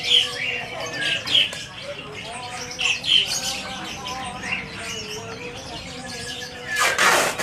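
A competition songbird chirps and trills repeatedly in quick, varied bursts, fairly close, with people talking in the background throughout.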